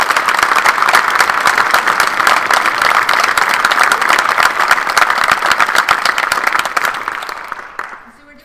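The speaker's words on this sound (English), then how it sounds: "let's go ahead and give our PA students another round of applause" A crowd at a university white coat ceremony gives a long, steady round of applause for physician assistant students, the dense clapping holding level for several seconds before tapering off near the end.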